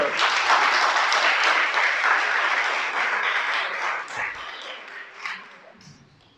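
Loud congregational applause at a Shabbat service, dense clapping that stays strong for several seconds and then gradually thins and fades, with a few scattered claps and faint voices near the end.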